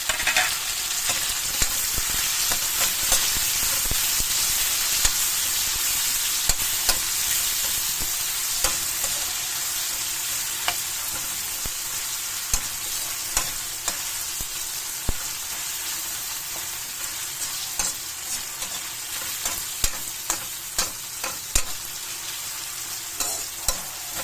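Tomatoes sautéing with garlic and onion in a pan for ginisang ampalaya with eggs: a steady, close sizzle with frequent clicks and stirring scrapes throughout, no talk.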